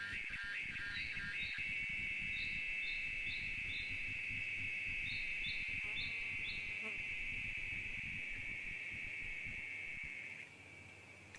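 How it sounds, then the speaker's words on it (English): Crickets chirp in a steady, continuous high trill through a quiet night at a grassy riverside campsite, with a few brief insect buzzes layered on top and soft low background rumble beneath. "I fall asleep to the sound of crickets and the quiet music of the river."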